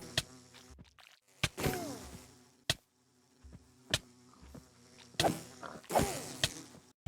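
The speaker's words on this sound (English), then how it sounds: "There are still bees here, though. The bees!" Bees buzzing in a Minecraft world, heard as intermittent insect drones and creaky game noises broken up by sharp clicks and thwacks, fairly close and moderately loud.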